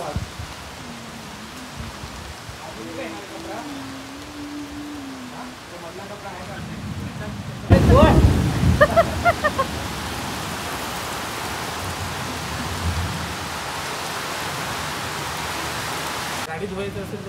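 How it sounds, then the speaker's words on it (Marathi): Steady rain falls in a Konkan village in Vaibhavwadi, a constant soft hiss that grows fuller partway through, with faint voices in the background at the start. "पाऊस."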